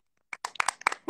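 A handful of hand claps, sharp and close, coming in an uneven burst after a brief silence during a casual live stream.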